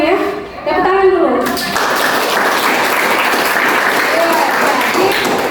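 Students in a classroom break into loud, steady clapping after a brief spoken word from a teacher, and the applause continues evenly to the end.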